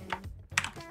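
Computer keyboard typing during modeling in Fusion 360 CAD software: two short bursts of keystroke clicks, close to the microphone and fairly quiet, with no speech.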